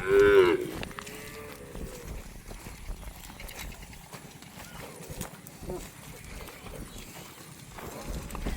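Cattle crossing a canal moo in a loud, close call at the start, followed by splashing, movement and background voices for the rest.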